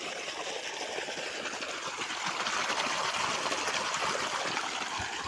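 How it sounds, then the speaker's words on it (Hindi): Running water pours and splashes steadily outdoors as hands are washed under it, a continuous close trickling gush with no talking. "अभी चलो हाथ को धोते हैं"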